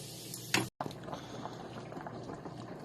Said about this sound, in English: So now we just boil this down to get all the flavor